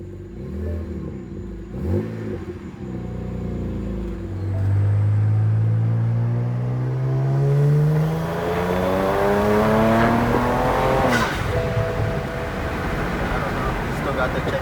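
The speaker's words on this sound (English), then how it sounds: "I'm gonna turn the car on, see if, you know, everything is okay." A BMW with an N54 engine and a custom tune starts and revs close by, rising in pitch through several sweeping revs, with speech heard over the rumbling engine.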